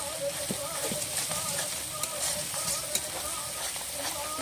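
Spice masala stirred and fried in a pan for a village-style chicken and potato curry, with a steady, close sizzle, spatters and scraping stirs throughout.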